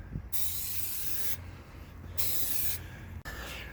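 Spray adhesive hissing from a can onto a hot tub cover in three close, sustained bursts separated by short pauses.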